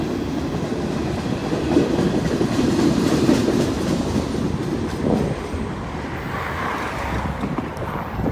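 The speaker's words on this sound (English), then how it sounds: "Old boxcars on this train," A long freight train of old boxcars rumbles steadily past at close range, wheels clattering over rail joints amid wind noise, with no voices.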